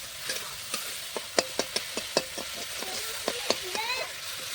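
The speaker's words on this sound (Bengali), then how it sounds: "মশলাটা ভালো করে কষানো হোক" Spice paste being sautéed with chicken in a pan, two kilos of chicken, with a steady faint sizzle under repeated clear scraping and stirring strokes of a spoon against the pan, no talking.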